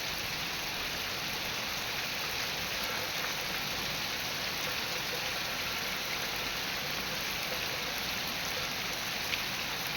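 Heavy rain pours down on cotton fields in a dense, continuous hiss, steady and loud throughout with no other sounds standing out.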